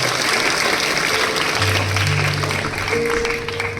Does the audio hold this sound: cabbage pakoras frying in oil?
no